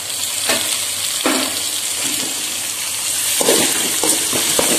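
Ginger and tomato sautéing in a pan, a steady close sizzle with bursts of scraping stirs scattered through, no voices.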